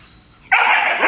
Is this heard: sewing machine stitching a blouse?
no